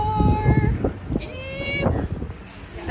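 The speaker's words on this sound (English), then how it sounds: "It's also super windy." Wind gusts across the open deck of a cruise ship on a Pacific Northwest sailing, buffeting the microphone in low rumbling bursts while people talk nearby.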